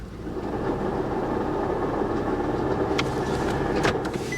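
A Lincoln MKX idling in park with a suspected cracked flywheel, a steady low engine drone with a rough rumble underneath, joined near the end by a few sharp ticking clicks.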